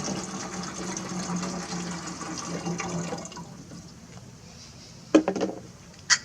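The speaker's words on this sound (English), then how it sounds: "I'm going to fill it up with water." Water pours steadily into a tin can for a few seconds, a close running and filling wash that tapers off, followed by a couple of sharp metallic knocks.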